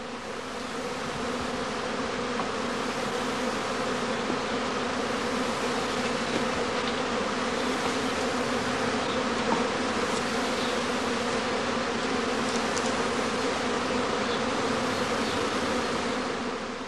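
A swarm of honeybees at the entrance of a straw skep hive during prime swarming, with a catching bag spread over the flight entrance. A dense, continuous, loud buzzing hum holds steady throughout, with no voices.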